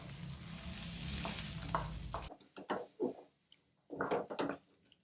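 Drumstick leaves fried with onions in a pan, sizzling loudly at first and then broken into soft scraping and stirring strokes as the greens are turned, close and without talk.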